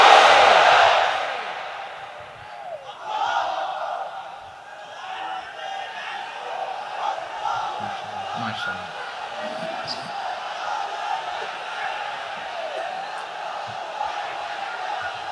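A large crowd at an Islamic sermon gathering shouts takbir together, a loud massed chant at the start that fades into ongoing crowd noise and murmur.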